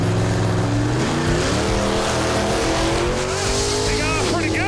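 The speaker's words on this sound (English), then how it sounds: "let's watch this Monte Carlo make a pass." A Monte Carlo launches down a drag strip on a loud, roaring run, its engine rising in pitch through the gears with tire squeal, while people talk over it.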